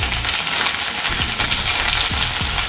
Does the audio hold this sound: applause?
no